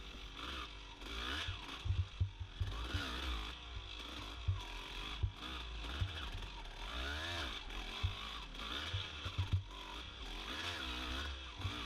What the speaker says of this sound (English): I have my bike in second gear, and you can kind of hear me lugging it